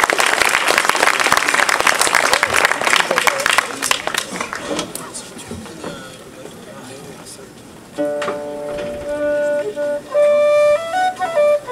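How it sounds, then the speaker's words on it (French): Dense, loud applause from a festival crowd at Festival Dinan 2015 cheers the stage crew while microphones are set up, then fades after about five seconds as steady sustained instrument tones begin. "On peut applaudir Louis pendant qu'il règle les micros"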